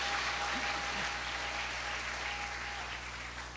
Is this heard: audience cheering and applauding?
yes